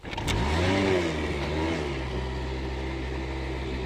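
A Honda Dio scooter engine catches almost at once and revs briefly. It then settles into a steady, close idle with no talking.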